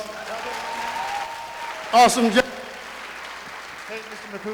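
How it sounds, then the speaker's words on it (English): A crowd at a high school graduation ceremony keeps up a low spread of applause beneath someone speaking into a microphone, with one brief louder burst partway through. "All right, another round of applause."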